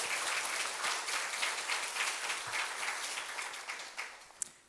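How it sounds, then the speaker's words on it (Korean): Sustained welcoming applause from a church congregation during a Sunday worship service, dense steady clapping throughout that slowly thins toward the end, with no talk over it. "크게 환영의 박수를 올리겠습니다"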